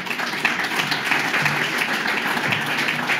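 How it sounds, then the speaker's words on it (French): Applause from the audience at a public round-table discussion, a steady, dense patter of many hands clapping that fills the room at moderate loudness for a few seconds. "Vous pouvez d'ailleurs vous applaudir."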